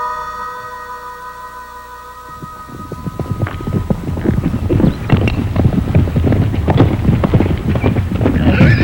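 Wild horses in the Nevada desert trot with rapid clip-clop hooves that build and grow louder, over a windy outdoor background, with an occasional faint whinny.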